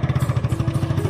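Motorcycle engines as two bikes pull away, a loud, close, steady pulsing throb with a rapid even rhythm and no talk.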